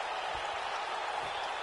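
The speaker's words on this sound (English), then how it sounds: "you can hear chants in the crowd breaking out of Reaper Crew" A wrestling event crowd fills the space with a steady, dense roar of voices that may carry chants, sustained and fairly loud throughout, with no clear single voice standing out.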